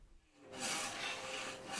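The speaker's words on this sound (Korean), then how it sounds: "슬근슬근 나아가는 톱질에 금세 사방 탁자에 올거미 하나가 나옵니다." Traditional hand saw cutting a wooden frame piece for a four-sided table at a Korean intangible heritage festival, a soft scrape building into a steady, close rasping stroke.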